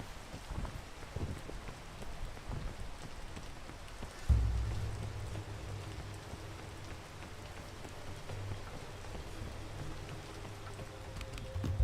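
Steady rain falls in the video game PEAK, a continuous even patter without voices, with a low rumble swelling briefly partway through.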